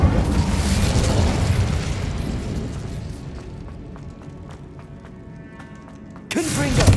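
Incendio fire spell cast in Hogwarts Legacy: a loud, rumbling fiery roar that fades into a quieter crackling stretch, then a sharp new burst of flame near the end.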